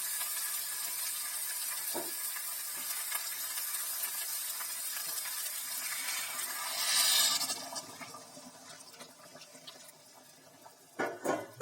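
Water is poured into a pan of cooking mutton curry, giving a bright sizzling hiss that swells midway and then settles to a quieter simmer, with a couple of clinks near the end.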